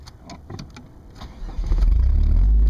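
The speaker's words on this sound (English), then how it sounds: "Spun the tires into the dirt." A vehicle strains as its engine revs up and holds a loud, low roar while the tires spin in dirt, trying to pull out a tree.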